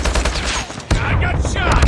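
Call of Duty gameplay gunfire, a loud rapid burst of automatic shots with a brief break partway through, then firing resumes, with a faint voice under it.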